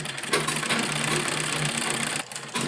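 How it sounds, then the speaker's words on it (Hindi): A sewing machine runs steadily at close range, stitching a temporary tacking seam on a kurta, with a continuous whirring drone that briefly dips near the end before resuming. "तो सबसे पहले हम इसके ऊपर कच्ची सिलाई कर लेते हैं"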